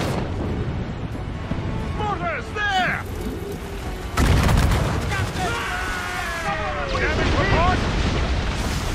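Heavy booms from ship cannon fire erupt amid naval battle noise in the video game Assassin's Creed Rogue, with shouted voices over rumbling blasts.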